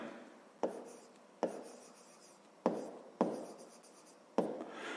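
A pen writes on paper while a grade 5 maths exercise is solved, giving five sharp taps each followed by a short scratchy stroke, close and quiet, with no talk.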